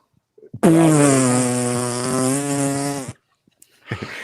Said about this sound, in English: Did somebody fart there?